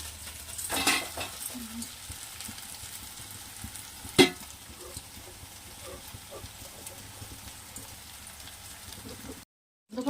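Marinated fish pieces sizzle in a pan of a tamarind fish curry as they are stirred, with a sharp clink of a utensil near the middle and a steady close frying hiss, no talk.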